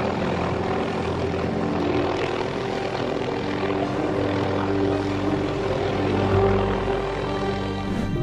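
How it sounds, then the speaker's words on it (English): A rescue helicopter hovering near power lines to free a trapped seagull, its engine and rotor producing a steady loud droning hum that continues throughout without pause. "to rescue this seagull stuck in the power lines, they needed a whole helicopter"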